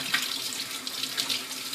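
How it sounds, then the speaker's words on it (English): Hands rinsed under a cold running tap in a kitchen sink while making soft matza, a steady close splashing hiss of water with no talking. "wash my hands with cold water"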